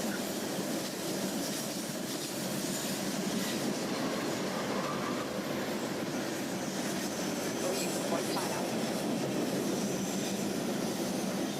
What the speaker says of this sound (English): I'm really scared of this train falling over.